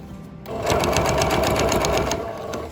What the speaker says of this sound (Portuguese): Ó, e vai costurando, tá?